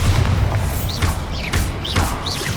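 Bombarda explosion spell going off in Hogwarts Legacy, a heavy booming blast with thuds and whooshing sweeps layered over a dense, loud low rumble amid combat.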